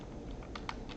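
Typing on a computer keyboard, a quick flurry of soft, close key taps in about a second.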